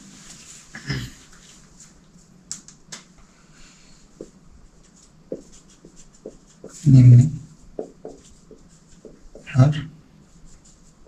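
A pen scratches softly across paper while a diagram is drawn during a Bengali maths lesson on complex numbers. The quiet strokes run beneath intermittent speech.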